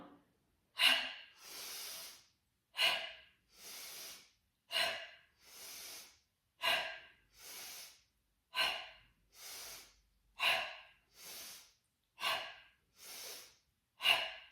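Heavy rhythmic breathing during a core exercise workout, about eight cycles of sharp inhales and forceful exhales, close and alone with silence between breaths.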